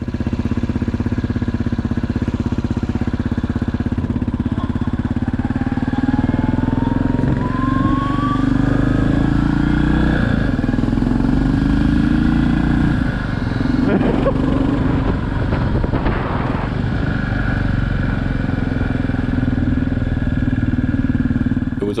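A motorcycle tows a rider on an electric skateboard, its engine a steady, close mid-pitched drone with a whine that rises briefly as it accelerates, held continuously under wind noise throughout.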